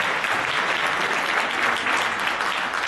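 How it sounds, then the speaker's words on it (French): Audience applause at a currency and index trading seminar, a dense, steady wash of many hands clapping, moderately loud and unbroken. "Vous pouvez l'applaudir."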